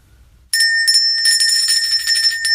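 A small hand bell shaken steadily for about two seconds, a bright sustained metallic jingle that starts abruptly after a brief quiet moment, loud and close.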